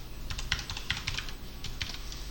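Steady typing on a computer keyboard while connecting to a containerized database from the Linux command line, with quick irregular key clicks close and clear in a quiet room.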